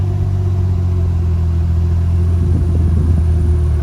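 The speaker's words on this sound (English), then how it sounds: "ride the clutch and see if it'll come out" Toyota 2JZ engine with a Tilton twin-disc clutch pulling away gently, a loud steady low rumble inside the car with a slight swell as the clutch takes up.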